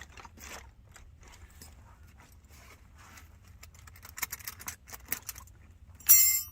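Wrenches clinking and jangling inside a worn tool bag with a hole in it, small metallic rattles scattered through the clip that grow busier and louder toward the end.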